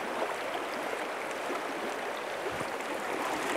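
The Leven River at Loonganna, Tasmania, flows past with a continuous soft hiss and gentle rushing, faint and even, with no talking.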